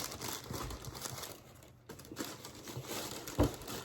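Tissue paper crinkling as a pair of Nike Air Diamond Turf shoes is unboxed, soft close rustles and crumples with a sharper crackle near the end.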